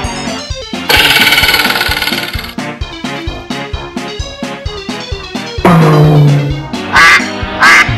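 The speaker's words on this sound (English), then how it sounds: "Duck." Cartoon duck quacking in a children's animal-names song, a burst of bright nasal quacks set against busy, loud music, with further quacks near the end.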